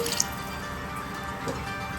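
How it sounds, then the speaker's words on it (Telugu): A glass of water is poured into thickened prawn curry simmering in a pan, making a steady, soft wet splash and bubbling with no talking over it. "ఇట్లా ఒక గ్లాస్ వాటర్ యాడ్ చేసుకొని"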